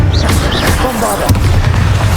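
A Bombarda spell explodes in the Hogwarts Legacy video game: a loud, heavy low-end boom and rumble, dense and close, blended with other game sounds and a brief voice.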